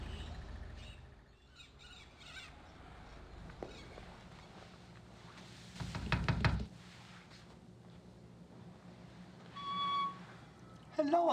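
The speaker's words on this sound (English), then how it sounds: "Knock, knock, knock." A door is knocked on in the Gabriel Knight: The Beast Within adventure game: a short, loud knocking burst stands out over quiet ambience with faint bird chirps, followed later by a brief tonal sound.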